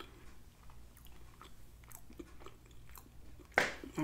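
Soft, wet chewing of soul food dressing close to the mouth, with quiet rhythmic mastication, a few faint crunches and a louder smack near the end.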